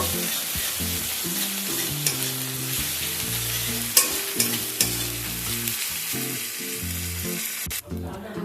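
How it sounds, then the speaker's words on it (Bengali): Ginger garlic paste fries in hot oil with onions for a home-style fish curry, a dense steady sizzle over a low tonal drone with scattered sharper crackles and a few spoon scrapes. "আদা রসুনের কাঁচা গন্ধটা না যাওয়া পর্যন্ত এটাকেও একটু ভেজে নেব।"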